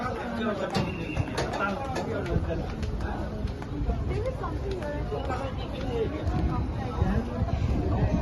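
Pigeons cooing repeatedly close by in a Qatar street setting, soft rounded coos recurring through the clip over a light background of people chattering and crowd murmur.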